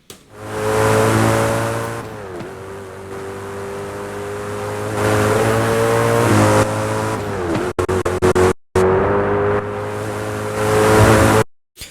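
A Koenigsegg engine in Need For Speed: Hot Pursuit drones steadily with a rising and falling pitch, easing off briefly then revving again, with a few sharp cutouts near the end.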